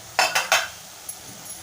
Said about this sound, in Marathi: परतवून घेऊया।